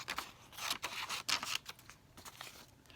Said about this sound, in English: go ahead and begin cutting with me